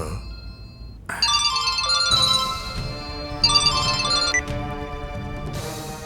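A phone ringtone plays as a tonal melodic tune in repeated bursts, fairly loud, over a low background music bed with no talk.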